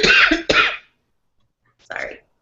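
A person coughs up close: a couple of harsh, rough coughs in quick succession, then silence, then one shorter throat-clearing cough.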